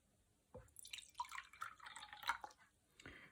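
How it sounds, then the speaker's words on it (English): Water poured into a glass on a CUSIBOX digital kitchen scale: soft, quiet splashing and trickling for about three seconds, close by, with no talk. "now I'm just going to pour some water in it"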